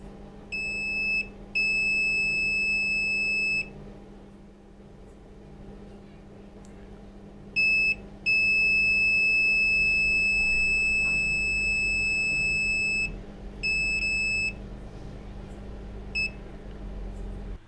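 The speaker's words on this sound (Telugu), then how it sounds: "బజర్ సౌండ్ కూడా మంచి క్లారిటీతో, హై క్వాలిటీతో, మనకు హై సౌండ్తో కూడా మనకు బజర్ సౌండ్ వస్తుంది" A digital multimeter's continuity buzzer emits loud, high, steady beeps in repeated bursts of a few seconds each, with short silent gaps between, over a low electrical hum.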